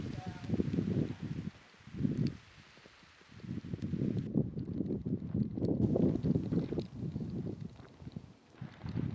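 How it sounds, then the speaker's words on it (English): Winter wind gusting through snowy trees in Dalarna, a loud low rushing roar buffeting the microphone in uneven surges, with a voice talking at times. "The wind is starting to kick up a little bit, and it's blowing the snow off the trees"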